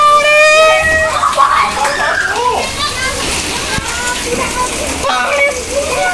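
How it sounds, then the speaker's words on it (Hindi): Heavy rain and floodwater fill a house and its surroundings, giving a continuous wash of water. Loud, excited voices, including children, talk over it throughout. "घर में पानी बाहर पानी"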